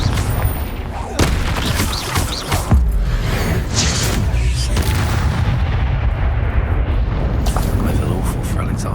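Confringo spell explosions in Hogwarts Legacy boom and crack through a chaotic battle, a cluster of sharp blasts early on giving way to a continuous loud rumble, with a voice speaking over the fighting.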